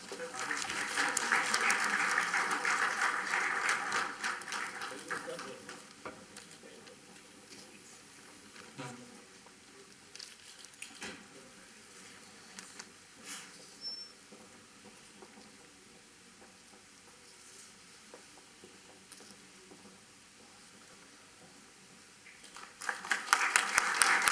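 Audience applause at a summit inauguration ceremony, loud clapping at the start that fades to a quiet room hum, then another burst of clapping rising sharply at the end.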